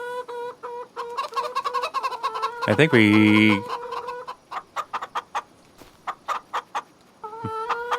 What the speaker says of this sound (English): ooh, chickens are laying some fresh eggs.